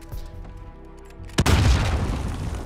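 A grenade goes off in a video game: one sudden loud, close boom after a stretch of quieter game sounds, followed by a long rumbling tail of debris.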